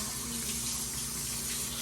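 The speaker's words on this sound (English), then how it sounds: "So I just like rinse a little bit and stop so he can regain his composure and breathe." Water poured over a dog named Bart to rinse his ears during a bath, a faint, steady stream of splashing water with no pause.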